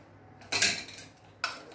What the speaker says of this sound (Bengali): তারপর আমি এই ডাকনাটা লাগিয়ে এটাকে এই যে সুন্দরভাবে আমার ডাকনাটা লেগে গেছে